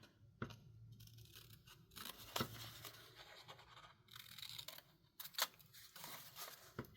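Scissors snip and trim a small paper envelope for a junk journal, cutting angled sections from its sides: a few close, sharp cuts and papery scratches with brief rustles between, quiet and without talk.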